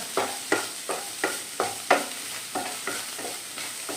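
Cabbage thoran, a Kerala-style cabbage stir-fry, stirred in a pan with about ten evenly spaced scraping strokes over a soft sizzle, close up and with no voices.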